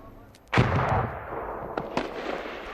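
A hand grenade explodes downrange at an Army training range, a single sharp boom that rolls into a long, fading rumble, followed by a few faint distant pops.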